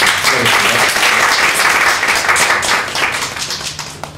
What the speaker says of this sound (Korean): 박수 한번 해주시겠습니다